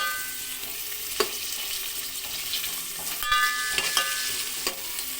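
Three onions sauté in a pan for a restaurant-style mushroom biryani, a soft steady sizzle with occasional stirring clinks and scrapes, fairly quiet and without talk.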